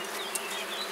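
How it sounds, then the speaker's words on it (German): Honey bees buzzing steadily during a beehive inspection, a dense continuous hum from many insects up close with no talking. "Aber das war ja bloß eine Handvoll Bienen."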